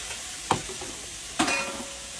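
Sausage and garlic in a pot give a faint low sizzle, broken by two sharp utensil clanks against the pot, about a second apart.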